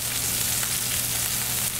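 Meat searing in a hot pan, a loud, dense, continuous sizzle with no talking.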